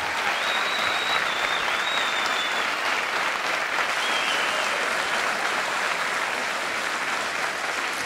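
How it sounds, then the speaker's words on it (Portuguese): Steady, loud audience applause fills a comedy show for the full stretch, a dense even wash of clapping with a few whistles and no talk over it. "Um forte aplauso."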